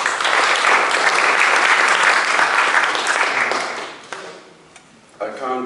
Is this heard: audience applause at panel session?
yes